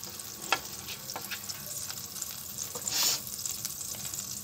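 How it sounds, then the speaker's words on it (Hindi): Butter melting in a hot pan while palak paneer is being cooked gives off a steady close sizzle and fry crackle, with a brief louder hiss partway through and no talking. "बटर ने पिघलना शुरू कर दिया है।"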